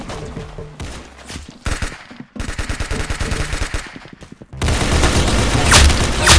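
Gunfire in the video game Arsenal, bursts of rapid shots separated by short pauses, then a loud continuous volley to the end, all close and with no talking.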